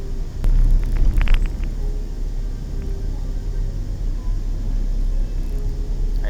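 A large truck passes on Roxas Boulevard in city traffic, a loud, steady low engine rumble that swells at the start and then holds as a continuous drone close by.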